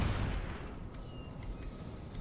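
Cannon artillery in Empire: Total War booms at a distance, a heavy rolling report fading into a dull battlefield rumble.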